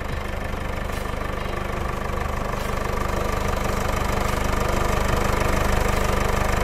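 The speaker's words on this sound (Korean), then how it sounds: "엔진 소리 일정합니다" A Mercedes-Benz GLC 250 d 4MATIC (X253) diesel engine idles steadily with a low, even rumble and a faint rhythmic knock, continuous throughout with no voices.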